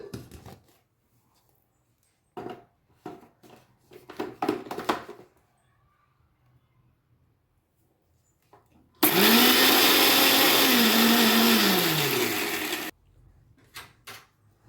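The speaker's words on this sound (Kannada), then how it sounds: "ಸೊ ಬನ್ನಿ ಇವಾಗ ಮಿಕ್ಸಿ ಮಾಡ್ಕೊಳ್ಳಿ" After a few clinks and clatters, a mixer grinder grinding spices with cumin for chutney powder whirs loudly for about four seconds, its pitch dropping as it winds down, then quiet handling sounds.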